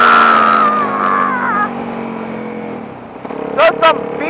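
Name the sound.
beater car driving by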